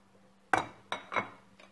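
Metal utensil clinking against a pan while tomato sauce with browned onions is mixed for homemade pizza, three or four sharp close clinks and scrapes in a quiet kitchen.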